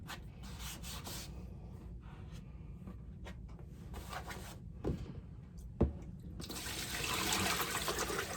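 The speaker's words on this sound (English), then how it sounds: "So in this container, I'm now raising the level of the water to my black line." Water pours into a plastic container for a potter's damp box, faint rubbing and handling sounds first, then a brief splash and a rising, steady stream of water near the end, close by with no one speaking.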